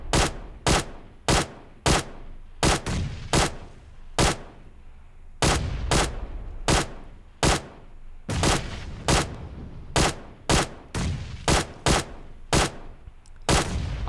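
QBZ assault rifle fired on single shot in PUBG Mobile, around twenty sharp, loud reports in an uneven rhythm of quick pairs and short pauses, each with a brief decaying tail and no talking.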